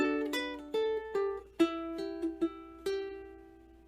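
Soft plucked ukulele notes from "10,000 Reasons (Bless The Lord)" picked one at a time in a gentle, uneven fingerstyle pattern, fairly quiet and close, with no voices.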